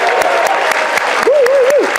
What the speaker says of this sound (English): can we start with a big round of applause for all of our graduates?